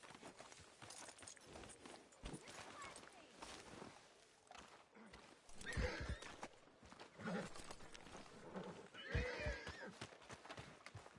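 A horse whinnies and its hooves clip-clop in the Western video game Red Dead Redemption, heard at moderate loudness in bursts while people talk over it.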